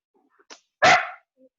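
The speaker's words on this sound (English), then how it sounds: "sorry, it's my dog." A dog barks once, loud and close, with a few faint yips and whimpers around it during an online tabletop role-playing session, and no one is talking.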